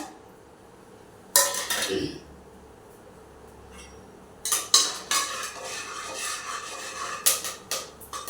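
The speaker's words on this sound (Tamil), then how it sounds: "இப்போ எண்ணெய் காய்ஞ்சிருச்சு. நான் இந்த பட்டை, லவங்கம் இதெல்லாம் போட்டுக்கிறேன்" Cinnamon and cloves dropped into hot oil for a mushroom biryani, a sharp sizzling burst followed by scraping and stirring in the pan, with a second round of louder spattering and scraping later on.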